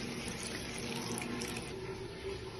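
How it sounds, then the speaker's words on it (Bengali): Water is poured steadily into a pot of cooking meat, a constant close rushing splash without pauses or voices. "এবার আমি পরিমাণ মতন জল দিয়ে দেবো।"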